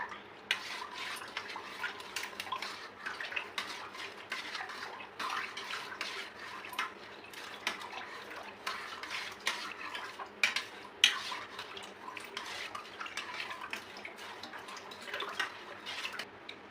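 A spoon stirs a sweetened drink in a glass, giving soft, continuous clinking and swirling liquid sounds throughout, fairly quiet and close with light background noise.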